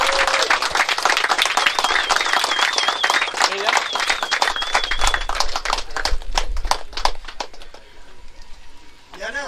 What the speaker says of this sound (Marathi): सर्वांनी जोरात टाळ्या वाजवाव्यात